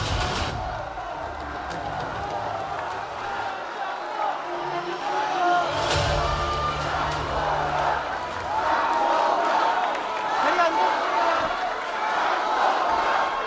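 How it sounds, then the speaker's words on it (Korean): A crowd at a People Power Party joint campaign rally cheers and claps to welcome party leader candidate Jang Dong-hyuk; a loud, continuous roar of shouts and applause with voices mixed in. "장동혁 당대표 후보님 모시겠습니다. 큰 박수로 맞아주시기 바랍니다."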